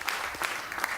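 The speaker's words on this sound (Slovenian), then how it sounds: "Verjetno nikoli ne bo dovolj dolg aplavz." Applause at a regional sports awards ceremony: a brief burst of many hands clapping steadily at a distance, with no talk.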